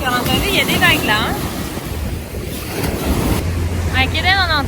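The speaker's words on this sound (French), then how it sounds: "T'as vu, il y a des vagues là." Ocean waves breaking on a beach in Thailand make a steady, loud surf roar with wind buffeting the microphone, while people talk over it at the start and end.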